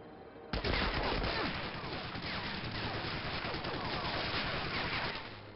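Continuous heavy gunfire in Medal of Honor: Allied Assault, a dense, loud barrage that erupts suddenly after a brief lull and keeps up without pause to the end, like sustained machine-gun fire at close range.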